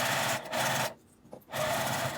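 Sewing machine running a 5 mm seam through fabric while making a small zippered pouch from scrap strips: a close, steady mechanical whirr that stops for about half a second, then resumes at full speed.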